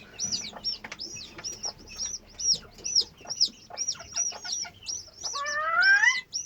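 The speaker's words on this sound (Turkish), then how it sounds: "Kekliğimiz de ötüyor. Bu arada bu sinyalleri keklik veriyor arkadaşlar." A kept partridge calls in rapid repeated chirping notes, close and clear, ending in a longer rising trill, with no voices.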